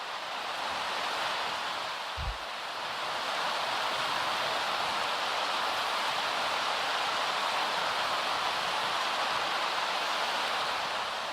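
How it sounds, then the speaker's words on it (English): Dense, even rain hiss from a thunderstorm in The Sims 3 runs throughout without a break, a steady downpour wash with one brief low thump near the start. "So this is a thunderstorm in Isla Paradisa."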